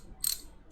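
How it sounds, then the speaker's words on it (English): A short, faint burst of rapid clicking from a 3/8-inch drive ratchet wrench handle being turned, heard alone. "this this is a ratchet wrench"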